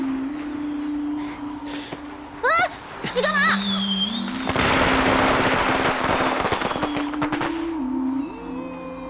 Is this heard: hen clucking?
no